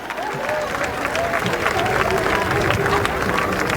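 An audience at a comedy awards show claps and murmurs, a dense, steady round of applause mixed with crowd chatter and a voice over it.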